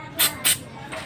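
Two short hissing spray bursts, close and loud, applied while fitting a new motorcycle front fork oil seal, each lasting about a quarter second with a pause between, then a faint third hiss near the end over quiet background.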